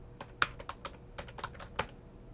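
A computer keyboard is typed on in short, uneven bursts, with sharp clicks and taps close by during a network ping command on a Raspberry Pi robot car setup. No one talks.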